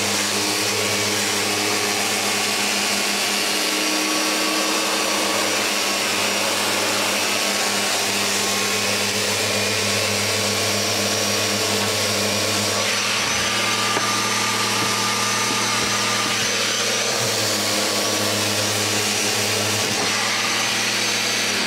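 A Festool RO 90 DX Delta sander runs continuously across a surface, a loud steady motor whine with a rough grinding hiss that shifts slightly in pitch as pressure and position change, close up and without talking.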